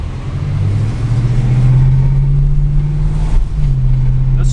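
A 1973 Oldsmobile Cutlass Supreme two-door coupe with a 350 V8 drives along, its engine a loud, steady low drone that climbs slightly in pitch, dips briefly near the end, then holds, close to the microphone.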